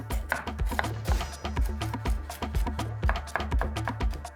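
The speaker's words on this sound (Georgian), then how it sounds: "დავიწყებ სტაფილოს დაჭერით." Knife chopping carrots into long julienne strips on a board for a spicy Thai salad, a quick run of close, crisp, evenly paced cuts over soft background music.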